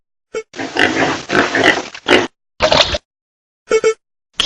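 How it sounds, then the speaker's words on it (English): Several short pig grunts in quick bursts, close and fairly loud, separated by brief pauses with no voices. "pig,"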